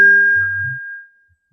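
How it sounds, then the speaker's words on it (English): A tablet notification sounds a single clear ding that rings out and fades over about a second, alone in an otherwise quiet room. "Someone's tablet is going off."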